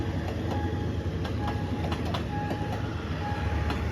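Express train number 139 rolls past a railway crossing on Si Ayutthaya Road in the evening, a continuous loud rumble with rhythmic wheel clicks and a faint tonal squeal, heard up close throughout.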